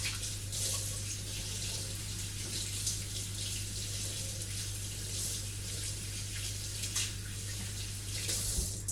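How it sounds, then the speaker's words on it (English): A kitchen tap runs while hands are washed free of flour, a steady close hiss of flowing water with faint splashing and no talk. "I'll just quickly wash my hands."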